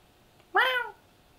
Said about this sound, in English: I'm petting a cat right now.